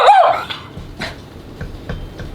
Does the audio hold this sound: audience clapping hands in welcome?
no